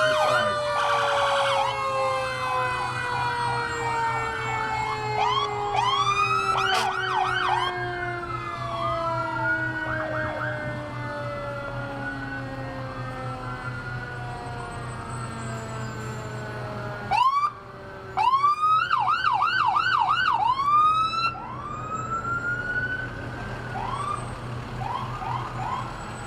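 Several fire engine trucks pass in a St. Patrick's Day street parade in Buchanan, sounding wailing and yelping sirens that overlap and sweep up and down. Loud air-horn-like blasts come near the middle, all fairly close.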